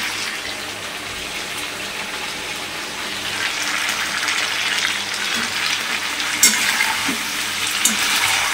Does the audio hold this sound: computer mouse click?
no